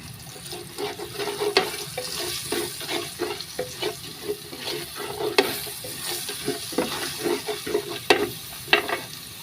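Ginisa sauté mix frying in a pan, with repeated scrapes and stirring strokes over a steady sizzle, close and fairly loud.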